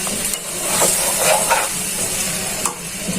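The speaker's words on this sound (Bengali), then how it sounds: "আমি এখন লো হিটে ভেজে নিচ্ছি চাউলটা" Rice frying in a pan on low heat gives a soft, continuous sizzle and hiss, with a few light stirring scrapes close by.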